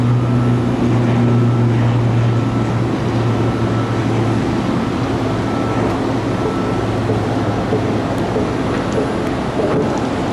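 An ATR 600 turboprop airplane at Tampa airport, heard as a loud, steady engine drone with strong low propeller tones holding for the whole stretch, no voices over it.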